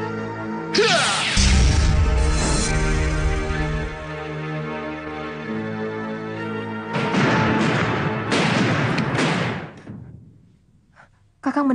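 A sudden loud explosion bursts out near the start with a heavy low boom, followed by a long dense rumble and layered crashing debris, then a second burst of clattering noise before fading.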